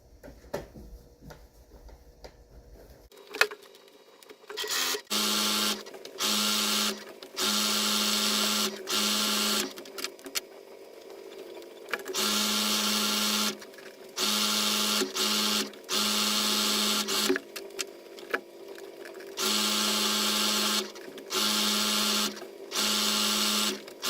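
A sewing machine runs seams along the edges of a handmade fabric floor mat in repeated bursts of steady whirring, each lasting a second to a few seconds, separated by brief pauses and handling noises, close and fairly loud with no talking.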